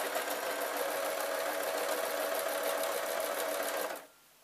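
A sewing machine runs steadily while stitching elastic onto a fabric sleeping mask, a close, even mechanical whir that cuts off abruptly near the end and leaves near silence.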